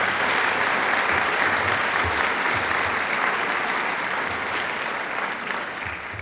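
A room full of people at a public meeting on the opioid and heroin epidemic applauds steadily, a dense even wash of clapping that fades slightly toward the end.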